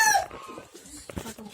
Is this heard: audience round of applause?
no